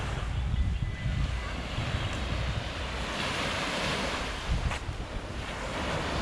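Ocean surf rolls onto the sand at Cheoc Van Beach in Coloane, Macau, a continuous broadband wash of waves mixed with wind buffeting the microphone.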